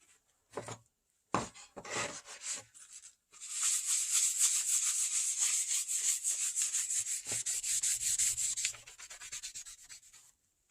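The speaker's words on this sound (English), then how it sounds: "First, I'm going to rub this one down, the first one I just did." A redwood deck stair board is rubbed down by hand, first with a few short separate strokes, then a long steady scratchy rubbing that stops and gives way to a few softer strokes, close and clear.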